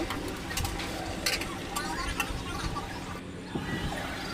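A spoon scrapes and knocks around a pot of boiled dal (lentils) while it is stirred. The clicks and scrapes are soft and irregular, with faint kitchen background and a voice at times.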